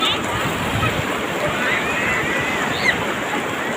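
Floodwater at Huai Sanei surges downstream in a steady, loud broadband roar that fills the whole stretch with no breaks, heard close by and outdoors.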